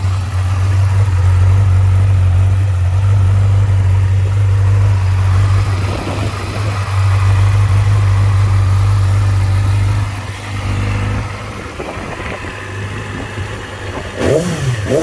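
A 2019 Yamaha YZF-R6 sport motorcycle engine holds a loud, steady idle, then dips and gives a few quick throttle blips near the end, with no talk over it.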